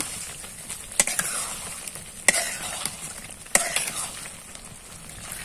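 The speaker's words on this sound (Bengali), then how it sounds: "এখন এটার মধ্যে আমি দিয়ে দিব হলো সেদ্ধ করা ডিমগুলো, সাথে একসাথে দিয়ে সুন্দর করে ভেজে নেব।" Boiled eggs frying together with prawn curry in a pan: a soft continuous sizzle with a few sharp spoon clinks against the pan at intervals, close and moderately loud, with no talking.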